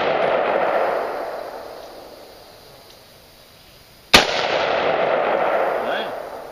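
A single sharp Bushmaster rifle shot cracks out during clay skeet shooting, one loud report rising from a quiet outdoor background with a faint trailing rumble.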